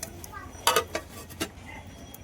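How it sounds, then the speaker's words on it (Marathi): A lid is set onto a cooking pot holding boiling water and tempering, with a couple of clear metallic clinks and a short rattle, then quieter ticks. "झाकण ठेवून देतो आता याच्यावर."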